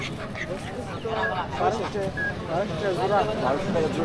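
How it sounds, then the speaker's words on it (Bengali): Ducks quack at a rural tribal village market near the Nakugaon border, where large ducks are sold by the roadside; the calls are steady and mid-distance, mixed with crowd chatter and people talking throughout. "এই যে একটু বড় হাঁস দেখা যায় রাস্তার হাঁস"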